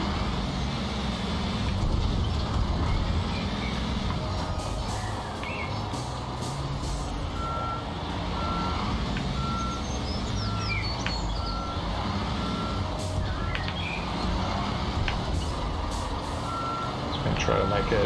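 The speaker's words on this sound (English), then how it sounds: "I am going to move this truck because we can get way closer." Truck reversing beeps in Construction Simulator Europe, a steady series of evenly spaced tones repeating over a dense, continuous bed of construction machinery and engine rumble, with a voice talking throughout.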